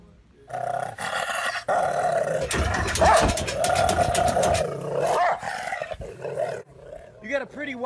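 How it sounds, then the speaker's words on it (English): Rough, sustained growling and snarling from a dog, loud and close, with a person's voice rising over it near the end. "You got a pretty wild dog"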